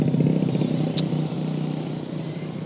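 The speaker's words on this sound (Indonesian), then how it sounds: "Aduh, itu mobil keluar jalur pula." A car passes on a road, heard from a moving motorcycle as a continuous engine drone mixed with wind and road noise, fairly loud and steady throughout.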